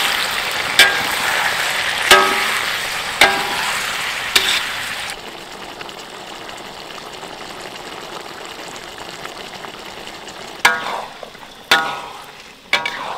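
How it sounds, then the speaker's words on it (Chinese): Diced tomato stir-fried with star anise and bay leaves crackles in a hot pan, with a sharp scrape of the spatula every second or so and a quieter sizzle between the tossing strokes. "稍微多翻炒一下，把那个番茄炒出番茄汁。"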